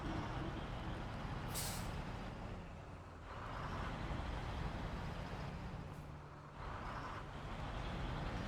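Heavy trucks driving in the snowy off-road game SnowRunner: continuous low engine rumble with gritty noise, dipping twice in loudness, plus brief hissing bursts like air brakes.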